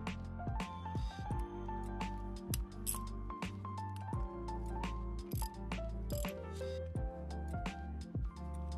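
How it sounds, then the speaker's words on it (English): 15mm socket ratchet tightening a Mazda oil cooler bolt, a close series of rapid clicking pawl strokes in short repeated bursts with brief pauses between them, no talk. "Make sure the oil cooler is aligned correctly and tighten down the bolt."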